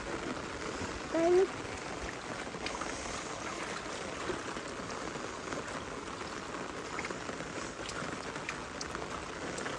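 Water flows steadily through a cotton field in a rural setting, a continuous wash of rushing, splashing water heard from close by with a brief louder splash near the start, under background ambience.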